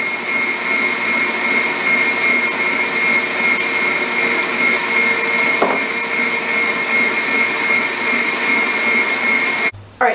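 Electric mixer beating soft molasses cookie dough in a bowl, a loud steady whirring motor hum with a high whine, running continuously for several seconds before cutting off abruptly at the end.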